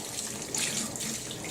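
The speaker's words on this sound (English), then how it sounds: "I just put the spatula in the sink" Tap water runs into a kitchen sink to rinse a batter-coated spatula while baking chocolate banana bread, a steady close hiss that swells briefly midway and continues throughout.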